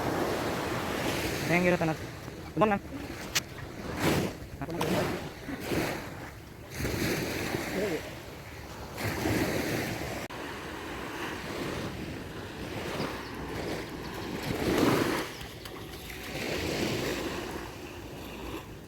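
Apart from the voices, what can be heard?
ocean waves on a beach at Gokarna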